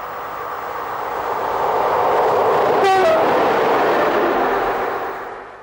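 Locomotives 16683 and 16614 in green livery haul a train past Longwy, west of Montmedy, swelling from a distant rumble to a close pass and fading away, with one short horn blast midway.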